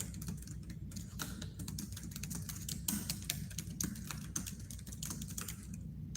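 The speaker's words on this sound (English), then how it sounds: "I'm typing that in." Steady typing on a computer keyboard, a continuous patter of quiet key clicks at close range with no voices.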